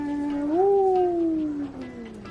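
A pet cat gives one drawn-out meow up close, rising at the start and then sliding slowly downward as it fades, with no talking around it.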